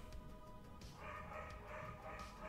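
A pet dog barks and yips in a home during a hobby chat, several faint, short barks and whimpers heard in the background with no talk over them.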